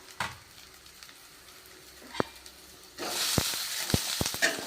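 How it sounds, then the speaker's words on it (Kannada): Onions drop into hot oil in a pan and burst into a loud, steady sizzle, joined by a few sharp clinks and scrapes of stirring, after a quieter stretch with a couple of isolated knocks. "ಈಗ ಏನು ಮಾಡೋಣ ಅಂದ್ರೆ ಈರುಳ್ಳಿ ಫ್ರೈ ಮಾಡ್ಕೋಣ"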